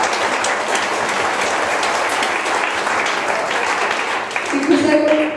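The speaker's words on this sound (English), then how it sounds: "let's give them all a good round of applause today." Audience applause at a Brisbane folk history book launch, a steady dense wash of clapping filling the room throughout, with a faint tonal sound creeping in near the end.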